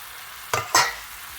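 Ginger-garlic paste with chili fries in a pan, a low hiss interrupted by two quick, close spatula strokes in succession before settling back to a faint sizzle.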